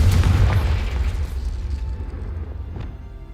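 A magical Confringo blast spell in Hogwarts Legacy goes off as one heavy, booming explosion that hits loud at the start and rumbles on with a crackling tail as it slowly dies away.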